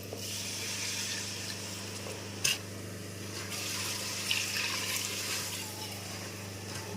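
Water is poured into soaked rice for paneer pulao, a steady broadband rush running throughout at moderate level, with a couple of brief clinks and splashes and no talking.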